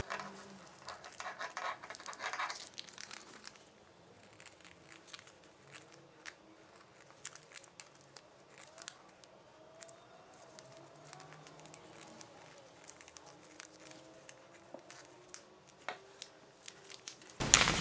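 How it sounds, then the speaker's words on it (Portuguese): Scissors cut through fabric along a pinned slipper pattern, with quiet, close snips and scratchy rustles in irregular bursts and a louder handling noise at the very end. "dá pra gente cortar facilmente aqui com o molde alfinetado"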